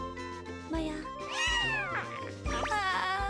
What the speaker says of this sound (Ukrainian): в майбутньому у Сакакі з'явиться свій котик.